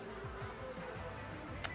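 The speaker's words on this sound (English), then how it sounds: "There's a lot of bees and shit." Bees in Marvel's Spider-Man game drone in a steady, close insect buzz that hovers without pause, with one brief sharp tick near the end.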